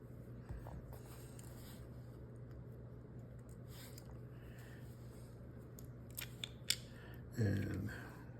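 A screwdriver works the crane screw loose on a Smith & Wesson .22 Kit Gun revolver, faint scraping and a few small metallic clicks near the end over a low steady hum.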